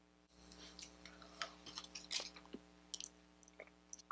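Strawberry chewy candy similar to Hi-Chew being chewed close up, with quiet, uneven wet smacks and soft crunchy bites spread across a few seconds, no talking.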